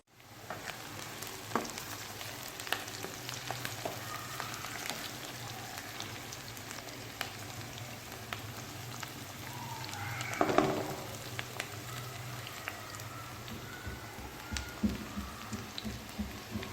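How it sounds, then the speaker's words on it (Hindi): Onions sizzling and frying in a pan with garlic paste added, a steady crackling hiss throughout with small pops, alone without talk. "ये प्याज हल्का हल्का फ्राई करके इसके अंदर मैंने लहसुन का पेस्ट डाल दिया है"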